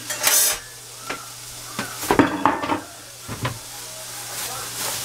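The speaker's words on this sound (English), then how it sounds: "you just cut them up into little slices like so. And brown the hell out of them" Slices of Italian sausage browning in a pan make a soft sizzle, broken by a few clattering stirs and pan knocks, with a person talking now and then.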